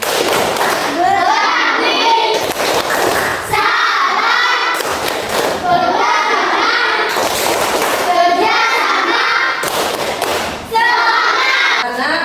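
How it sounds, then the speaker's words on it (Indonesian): A group of children in an Indonesian classroom performs a rhythmic tepuk semangat clapping chant, loud and close, with bursts of chanted voices and claps repeating in regular phrases across the whole stretch. "Ayo tepuk semangat hijrah."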